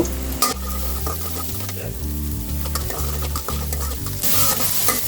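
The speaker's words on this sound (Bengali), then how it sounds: "আমি দিয়ে দিলাম এখানে আদা বাটি, পেঁয়াজ কুচি। এখন আমি এটাকে নাড়ব।" Ginger paste and chopped onion fry and get stirred in hot oil for beef nihari, a steady loud sizzle with scraping strokes throughout, rising into a brighter hiss near the end; no talking.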